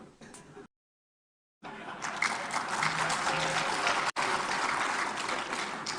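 Audience applause at an open dialogue event with Ganjar and Mahfud MD at Muhammadiyah, a dense steady crowd clapping that briefly cuts out near the start, then resumes loud and sustained to the end.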